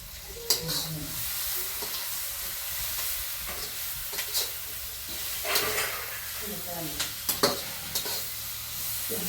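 Chillies frying in oil in a pan, a steady bright sizzle broken by repeated spatula scrapes and stirring knocks, close by with no clear talk over it.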